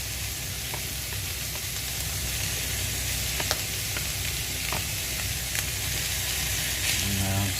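Beef mince sizzling loudly in a hot pan as it's broken up, a continuous dense frying hiss with scattered utensil scrapes and taps against the pan throughout.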